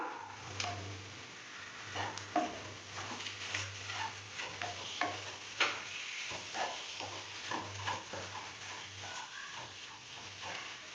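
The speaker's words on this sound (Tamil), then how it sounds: "இப்போ நம்ம ஃப்ரை பண்ணி எடுத்துருக்கிற ஃபிஷ் துண்டுகளை இதுக்குள்ள போட்டுக்கலாம்." Fried fish pieces are stirred into frying masala for fish chukka, producing quiet, irregular scrapes and knocks over a low, steady hum.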